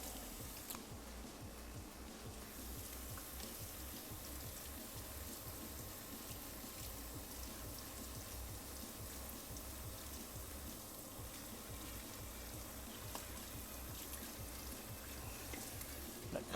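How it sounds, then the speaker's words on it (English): Stop bath for film developing pours steadily into a developing tank, a continuous soft liquid splash and trickle lasting throughout at low level. "Come back and pour the stop bath right in."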